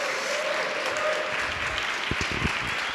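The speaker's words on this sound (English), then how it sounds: "give a round of applause for Angelica." Audience applause at a CreativeMornings morning talk event in New York, a steady wash of clapping from a seated crowd for several seconds, moderately loud, with a few sharper claps near the end.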